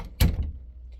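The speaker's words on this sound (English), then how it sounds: "I'm gonna close the door." A door shuts with a single solid thud, close by, followed by a brief softer knock and quiet.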